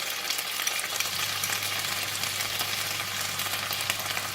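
Black pepper beef stir-fries in a hot pan after a splash of water and sauces goes in: a dense, continuous sizzle up close with steady stirring and no talking.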